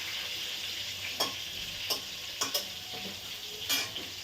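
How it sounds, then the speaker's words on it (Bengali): Potato and papaya slices fry in a pan at home, a soft steady sizzle with a few scraping stirs of a spatula breaking through, close but quiet, with no one talking. "আলু আর পেঁপে ভাজা বসিয়ে দিয়েছি।"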